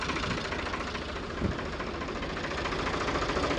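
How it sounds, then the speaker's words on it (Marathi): A tractor engine runs at a well construction site, giving a steady, loud, close rumble with a rough knocking texture that holds evenly throughout, no talking. "आपण ट्रॅक्टर लावून घेतलेले आहे"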